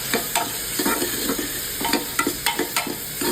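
Tomato and masala with turmeric and salt sauté in a pan for moong dal, a close, steady sizzle broken by quick stirring scrapes in a loose rhythm.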